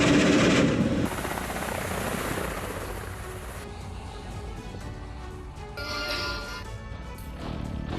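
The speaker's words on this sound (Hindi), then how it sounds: "K-52M हेलीकॉप्टर से हमला किया।" A Russian K-52M attack helicopter's rotor and engine noise thumps loudly, then settles into a rough, sustained mechanical roar with brief sharper bursts, heard alone without speech.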